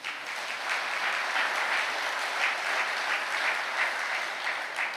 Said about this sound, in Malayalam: ঒ന്ന് കൈയുയർത്തി കൈയടിച്ച്.